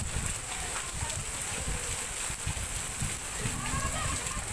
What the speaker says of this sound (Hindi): देखिए बारिश हो रही है